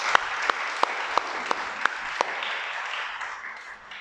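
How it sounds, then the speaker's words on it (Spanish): An audience applauds at a religious teaching session, with a few sharp individual claps standing out at first, then the clapping settles into a steady, moderately loud wash that slowly fades. "Date un aplauso."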